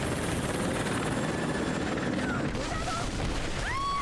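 Helicopter in the video game Rise of the Tomb Raider, a steady loud rotor roar filling the whole clip, with faint whistling tones and possible distant gunfire bursts mixed in.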